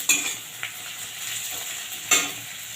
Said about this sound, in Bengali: পেঁয়াজটাকে একটু ভেজে নেবো লাল লাল করে